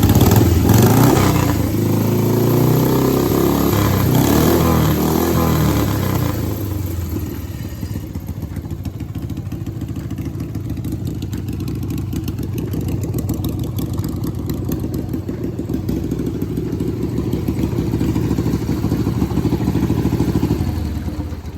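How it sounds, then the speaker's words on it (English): A 1989 Harley-Davidson Sportster engine runs steadily on both cylinders, loud and close: a sharp start in the first seconds, then a continuous lumpy idle throbbing through the rest. "Got both cylinders firing."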